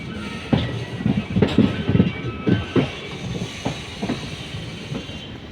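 A passenger train pulls out of Rottegolli station, its wheels knocking out a steady, rhythmic clatter over the rail joints, close and fairly loud, with a faint hiss in the background and no voices.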